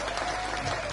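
Brief burst of audience clapping at a gathering honouring the founders of an Indonesian pesantren, a dense, close patter of many hands lasting under a second.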